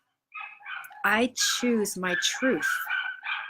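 Dogs bark in the background of a village, partly masked by a person talking steadily over them.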